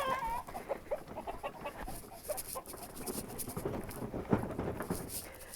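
Backyard hens cluck and chatter continuously around their new coop on a homestead garden, a busy flock close by with dense overlapping calls and a few sharper squawks.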